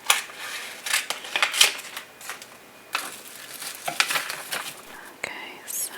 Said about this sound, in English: Let's cut open the package.